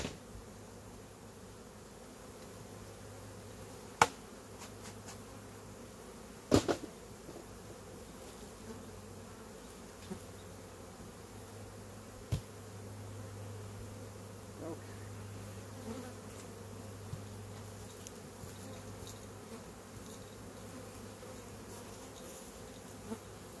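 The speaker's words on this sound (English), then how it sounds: "all I'm doing is collecting bees to boost some weaker colonies" Honeybees buzzing as they are shaken from a hive for a shook swarm to boost weaker colonies: a dense, steady hum holds throughout, broken by a few sharp knocks and thumps and no talk.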